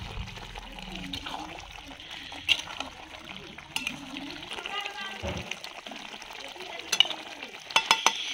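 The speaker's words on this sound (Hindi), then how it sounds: "फिर मिलाएंगे अच्छे से।" Duck curry stirred in a pan with coriander leaves and masala, a soft scraping and sizzling with occasional clinks of a spoon against metal, while a person talks throughout.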